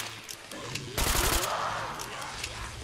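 A submachine gun fires in Call of Duty zombies as one short, dense automatic burst, followed by a lingering noisy wash of continued game action with quiet voices in the background.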